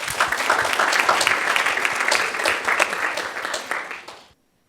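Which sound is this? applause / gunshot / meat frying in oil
applause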